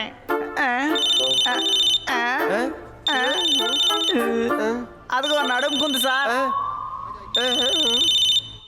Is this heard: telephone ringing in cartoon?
yes